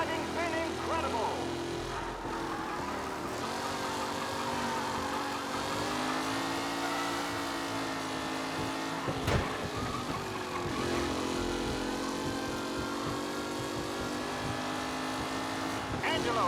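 Race cars roar in a Mafia Definitive Edition race, engines droning steadily and loudly throughout with shifting pitch as they speed past, while a commentator talks over the action.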